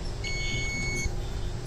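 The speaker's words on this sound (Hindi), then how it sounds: "बजर में दोनों प्रोब्स को लगा के चेक कर लेता हूँ एक बार।" A multimeter's continuity buzzer sounds while its probes test a shorted capacitor on a Realme 6 phone board: one steady, high electronic beep lasting under a second over a low background hum.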